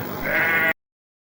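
A sheep bleats in the Worms Armageddon video game, one loud wavering bleat lasting under a second that cuts off abruptly into silence.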